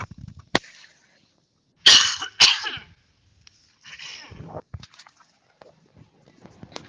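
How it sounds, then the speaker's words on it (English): Two sharp, close coughs in quick succession break a quiet pause during a strength and mobility workout class, followed by a few faint breaths and small rustles. "1 second as I cough"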